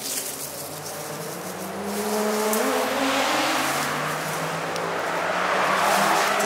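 Several cars drift on a Japanese mountain touge road during a drift meet, with high-revving engines and continuous tire squeal rising in loudness partway through, sustained and fairly close.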